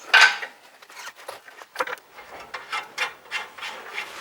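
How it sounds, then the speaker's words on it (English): A brush or cloth rubs sand and crusty grime off bolt threads during a Suzuki Jimny suspension lift, making short, close scratchy strokes in an irregular rhythm. "give your bolts a quick clean, just get all the crustiness, all the sand off the threads before you put them back in"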